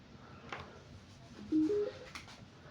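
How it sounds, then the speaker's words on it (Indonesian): Against a faint hiss, a Xdobo X8 Pro Bluetooth speaker gives a soft two-tone electronic beep on power-up, a brief rising chime. "Sekarang kita tes untuk power on nya seperti apa X-Dobo."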